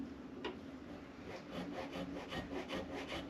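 A file rasps through a nut slot on a guitar, quiet close strokes in an even back-and-forth rhythm, about eight passes over three seconds, with no talk.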